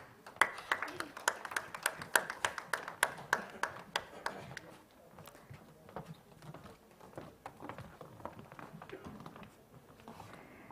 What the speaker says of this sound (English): let's keep the claps rolling as we honor all the finalists